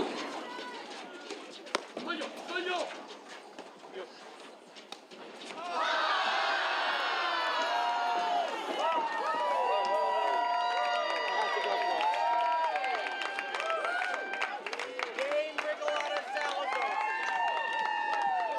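Spectators at a men's final pickleball match at the 2025 Rocky Mountain Throwdown burst into loud, sustained cheering and whooping after a long point, the roar swelling suddenly and holding steady to the end amid scattered shouts.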